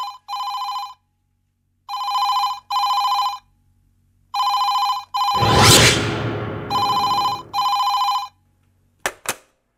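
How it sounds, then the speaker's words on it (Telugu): A telephone rings in repeated double bursts in a domestic drama scene, with a loud sweeping whoosh effect cutting in midway and a couple of sharp clicks at the end; no one speaks. "వాణికి ఫోన్ చేసి కనుక్కుంటారు."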